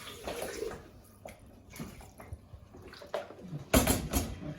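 Water poured from a kettle into a cooking pot to rinse it out while making Ghanaian jollof rice, a short splash and trickle that builds to a louder burst near the end, with clinks of the pot.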